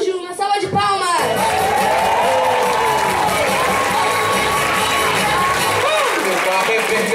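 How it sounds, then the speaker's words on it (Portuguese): A live audience at a Brazilian candidate show bursts into loud, sustained applause mixed with cheering and shouting, following a brief announcer's voice at the start and continuing densely throughout. "ele, Eduardo Araújo, uma salva de palmas!"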